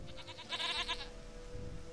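A goat in The Witcher 3 video game bleats once in a short wavering call, faint against a quiet ambient game background.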